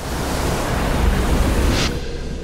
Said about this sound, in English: Not even the biggest waves can threaten Troll now.